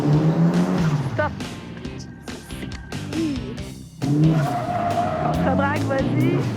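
A car skids with squealing tires on a racing course as the driver countersteers, engine revving and tires howling up close, with a voice talking over it.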